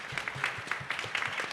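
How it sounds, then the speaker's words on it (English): Brief applause from an audience welcoming a speaker at a space industry event, a short burst of scattered claps with a slightly uneven rhythm. "We can give him a round of applause."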